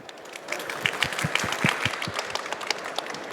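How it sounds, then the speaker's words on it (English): Applause from a conference audience for a woman in fintech being introduced as a panel speaker, moderate and steady, with some louder individual claps near the mic. "Please join me in giving her a warm round of applause."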